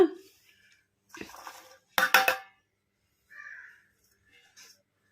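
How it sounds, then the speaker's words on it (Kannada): Fried green chillies and garlic pounded with a pestle in a stone mortar: a few short bursts of hard knocks and grinding, close and fairly quiet, separated by silence. "ಈ ಥರ ಕುಟ್ಟಬೇಕು ಒಣಕಿ ತಗೊಂಡು"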